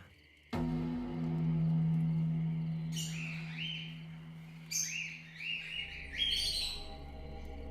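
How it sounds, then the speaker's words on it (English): A loud bird call rings out over a still, eerie backdrop with a sustained low tone, coming as repeated swooping, chirping bursts in several clusters that grow more insistent toward the end. "The loud pitch of a bird cut through the stillness, and James woke, sputtering bile."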